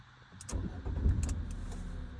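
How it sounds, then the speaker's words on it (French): A 2016 Fiat Panda Lounge with a 1.2 litre engine cranks briefly and catches, then settles into a steady idle, heard close up with no voices. "Et là, je vous laisse écouter le démarrage."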